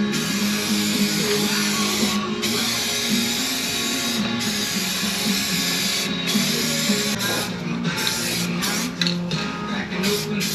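Spray coating hisses onto the rusted cab corner of a 2002 Ford F250, a close, steady spray broken by several short pauses and clicks of the trigger.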